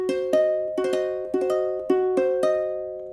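Diminished chord on a piano for ear training, several short struck notes and chord hits in a steady rhythm, each ringing and decaying before the next, clean and unaccompanied.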